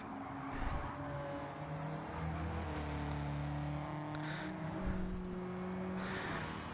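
A Volkswagen Beetle race car in the video game Gran Turismo 7 drones at a steady engine pitch with harmonic tones that shift as it revs, fairly faint and continuous with no voices.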